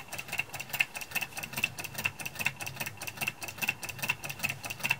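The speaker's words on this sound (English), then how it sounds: "A very simple solenoid motor." Small homemade solenoid motor running on a little battery, ticking in a fast, even rhythm with bright metallic clicks over a soft mechanical hum, close and fairly quiet, with no voices.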